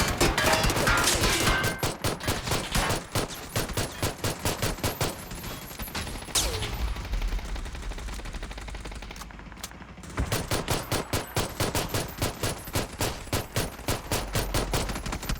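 Gunfire from the game PUBG, played in third-person solo mode: rapid loud automatic bursts in repeated volleys, a brief pause near the middle, then another long rattling string of shots.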